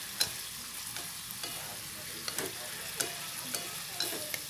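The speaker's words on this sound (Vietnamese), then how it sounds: "Thì các bạn xào như thế này ha, các bạn để cho nó rút hết cái phần nước vô cái tàu hũ của mình đó các bạn" Tofu skin stir-fries in a pan with a steady soft sizzle, while a utensil scrapes and taps the pan now and then, close and moderately quiet.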